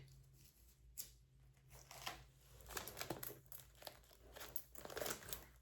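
Paper money is pulled from an envelope and handled, producing soft, quiet crinkles and rustles in irregular bursts, close and faint, with no talking.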